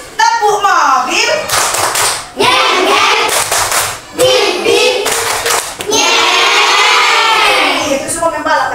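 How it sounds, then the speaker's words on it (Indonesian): Children in a classroom performing a rhythmic clapping chant in bursts, loud and close, with sharp clap patterns interleaved with their voices chanting along. "Tepuk mobil"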